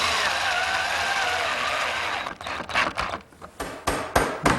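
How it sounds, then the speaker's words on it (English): A 1.5 inch screw driven into a wooden jig, with steady whirring from about two seconds, then choppy bursts and clicks as the driver stops and starts near the end. "I'm going to fix one end of the spreader to the side of the jig that rides up against the rib fence with"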